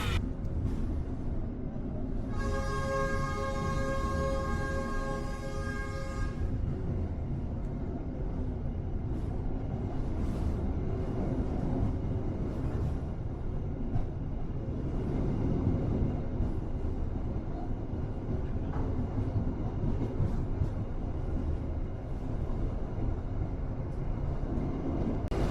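The Siantar Ekspress train pulls out of Tebing Tinggi station, heard from the open vestibule platform. A sustained horn blast sounds early, then a steady rumble of wheels and carriage noise rolls on beneath it.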